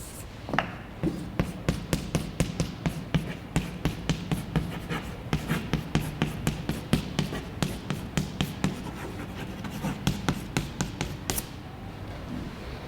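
Chalk taps and scratches on a blackboard during a mathematics lecture on parametrized curves, a quick, regular run of close, crisp strokes that continues for several seconds before trailing off.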